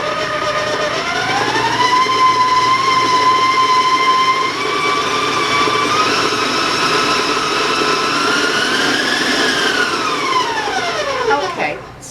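A stand mixer creams butter and sugar for candied pineapple walnut cookie dough, its motor whine climbing in pitch at the start, holding steady and loud for about nine seconds, then winding down near the end.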